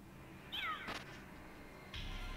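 A cat man enemy in Castlevania: Rondo of Blood gives a short, sharp synthesized meow, heard clearly over quiet game background sound, followed by a few brief effect hits.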